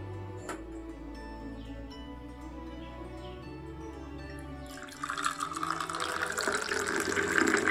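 Boiled water being poured through a strainer, starting with quiet trickles and drips, then a louder, steady splashing stream toward the end.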